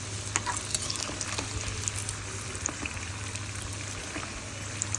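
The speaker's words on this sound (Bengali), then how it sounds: "এই যে সিঙ্গারাগুলো আমি ভেজে নিচ্ছিলাম" Samosas deep-frying in hot oil, a steady close sizzle and crackle with small pops running throughout, no voices.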